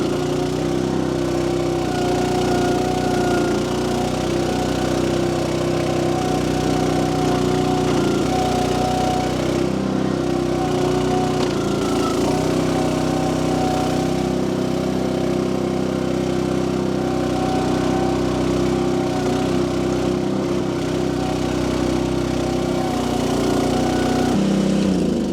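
A Crytec CREX6-M mini excavator's engine drones steadily and close throughout while it scrapes and digs, a continuous mid-pitched mechanical hum with slight load changes and no talk.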